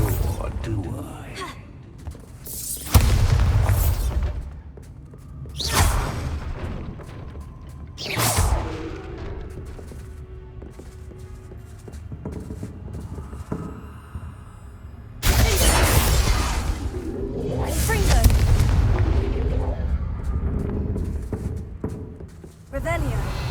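Bombarda explosion spell blasts in Hogwarts Legacy, heard as several loud, separate bursts with crashing, shattering debris, mixed with a voice talking between them.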